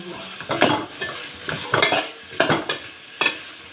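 Ingredients for a South Indian sambar curry being sautéed in a pan, with a series of scraping stirring strokes, roughly four or five distinct bursts, over a faint steady sizzle close by.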